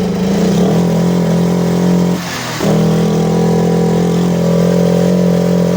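Yamaha Tricity 125 scooter engine held at full throttle, a loud steady high rev with strong harmonics that briefly drops out and returns, running rough with a fault under diagnosis.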